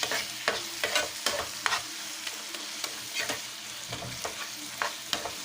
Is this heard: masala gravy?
yes